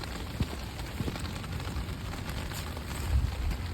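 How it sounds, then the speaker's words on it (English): Rain falls outdoors in winter, a soft, steady patter and hiss with occasional louder drops, moderately close and continuous, with no voices. "those of us who have to shovel it are glad it's rain and not snow"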